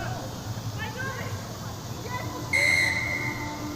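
At a rugby sevens match in the Asia Rugby Sevens Series in Korea, a referee's whistle gives a shrill, clear blast over crowd noise while a commentator talks throughout.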